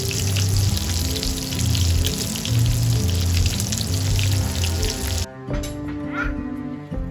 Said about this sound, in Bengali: রাত্রের ডিনারে খাওয়ার জন্য ইলিশ মাছ ভেজে নিচ্ছি।